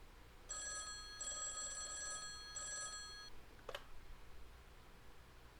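An electronic telephone ring repeats in three bursts over a quiet background, followed by a short click, like a phone in a game.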